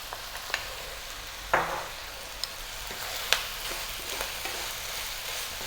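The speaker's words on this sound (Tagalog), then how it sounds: "haluin ko lang sandali bago tayo maglagay ng coconut milk" Ground pork with shrimp paste and chili is stirred in a pan, giving a steady low sizzle with occasional scraping clicks and knocks of the utensil, close and without talk.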